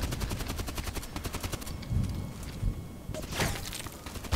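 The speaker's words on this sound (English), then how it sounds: "Who's shooting me?" Rapid automatic gunfire from the online shooter Contract Wars crackles in dense bursts, a steady rattling volley at first, then heavier scattered shots and a louder final flurry, all close and without pauses.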